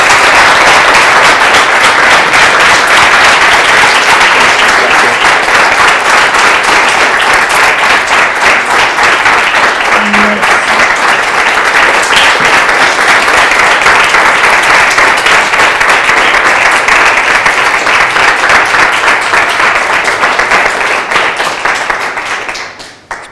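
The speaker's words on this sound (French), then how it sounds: "Une chaude main d'applaudissements." Warm, sustained applause from an audience honoring a retiring teacher at a university department event, dense and loud clapping that continues steadily for over twenty seconds before tapering off at the very end.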